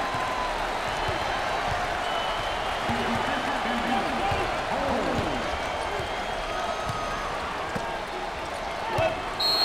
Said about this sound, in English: Listen to that reaction by the crowd. They're loving it.